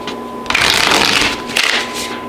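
Tarot cards being shuffled by hand, two close riffling bursts of rapid flicking, the first longer and the second shorter, with a quiet pause between.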